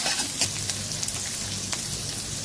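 Onions and green chillies fry in a pan for a breakfast dish, giving a steady close sizzle with a light crackle and a few soft stirring knocks throughout.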